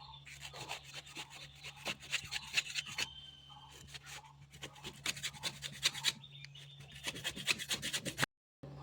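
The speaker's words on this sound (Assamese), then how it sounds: "আমখিনি মই প্ৰথমতে লৈছোঁ আৰু এইফালে তাক কাটি ল'ম ধুনীয়াকৈ" A knife slices through unpeeled raw mango for an Assamese pickle, cutting it into quarters. Close, rasping strokes repeat in quick uneven bursts, and the sound stops abruptly near the end.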